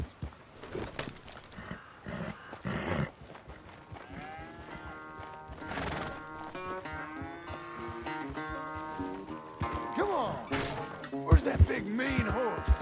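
A horse in Red Dead Redemption 2 snorts and whinnies amid clopping hooves and rustling movement, sounds rising and falling in bursts with louder snorts near the end.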